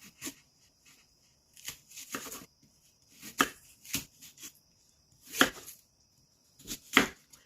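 A knife chops apple, seeds and all, with other hot toddy ingredients on a cutting board: irregular, sharp, close knocks and slices in short bursts with quiet gaps between them.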